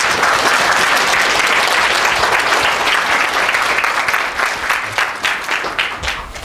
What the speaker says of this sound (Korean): 우리 큰 박수로 대표님.